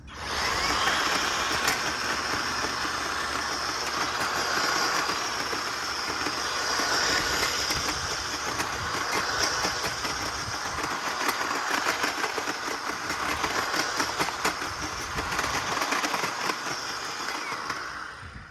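An EGO Power+ battery multi-head system fitted with its cultivator attachment digs into soil swells, giving a steady, close, loud motor whir with gritty churning that runs unbroken throughout, with no talking.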